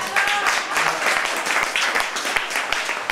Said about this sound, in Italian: un applauso per Franco De Benedetto